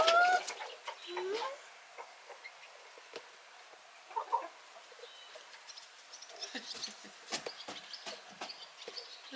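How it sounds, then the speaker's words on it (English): Chickens inside a coop jostle for position at bedtime: a few clucks and squawks at the start, then quieter rustling and scattered soft clucks, faint and close, with a person's voice talking now and then. "There's a lot of racket going on there. Is it you guys? Or are you? Silly chickens."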